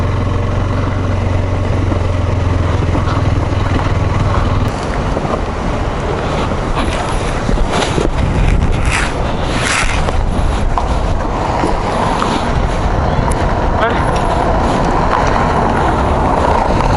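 A motorcycle idles on a monsoon ride through extreme rains around Bandipura and Gudalur. A low, steady engine hum holds for a few seconds, then fades under heavy, continuous wind and rain noise.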